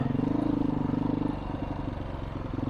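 Engine of a Beta 500 dirt bike fitted with bar risers on a trail ride, a steady close throbbing chug with a fast pulsing rhythm that dips slightly midway, continuous throughout.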